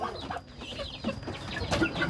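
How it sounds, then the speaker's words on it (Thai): Chickens cluck close by in a rural setting, short clucks and calls scattered across a brief moment with soft background noise. "ไก่กินข้าวเบื่อจัก"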